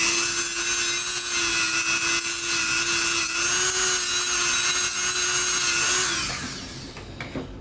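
Steady motorized grinding and rasping while a part for a single-handed Switch controller is carved out, a continuous close whine with a gritty edge that holds for about six seconds before tapering into a few scattered scrapes.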